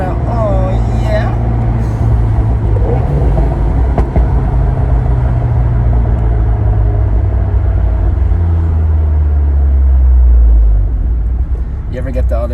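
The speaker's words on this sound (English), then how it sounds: "This car sounds awesome for a 4-cylinder" Steady, rumbling drone of a tuned turbocharged four-cylinder Abarth 124 Spider engine heard from inside the car during a ride, holding a low, even tone that rises slightly toward the end.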